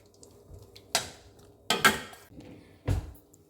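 A spoon scrapes and knocks against a pot while ground paste is mixed into kootu, a few separate clanks and scrapes close by with quiet gaps between them.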